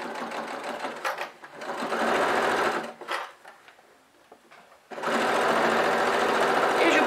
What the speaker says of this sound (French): Je rabaisse le pied et je continue ma couture.